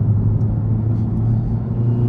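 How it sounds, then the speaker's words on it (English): An older-generation Honda Civic Type R drives past on a road, a steady, close car rumble with low engine drone holding level throughout, no speech. "Oh, Civic Type R just went by. The old version."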